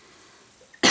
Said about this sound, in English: this cough is just never going to go